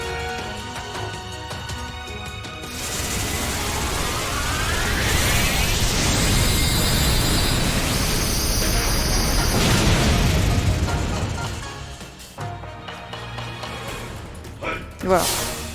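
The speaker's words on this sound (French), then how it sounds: "Utilise Canon Dynamax." A loud, sustained blast of Dynamax Cannon attack effects in Pokémon Sword, booming and roaring with layered whooshes and bright energy tones, swelling then fading into quieter effects.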